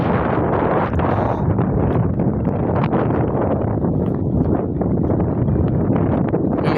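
Strong wind blowing across open village countryside, a constant roaring rush buffeting the microphone for the whole stretch, loud and unbroken.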